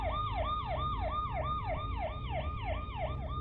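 A wailing police car siren in a video game sweeps up and down in steady repeated cycles, loud and continuous over a low engine rumble, with no voices.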